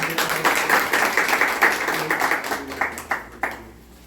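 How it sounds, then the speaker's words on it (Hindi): Steady clapping from a crowd at a Christian church meeting in Jabalpur, a dense patter of hands that fades toward the end with a few final isolated claps. "ताली बजाएं।"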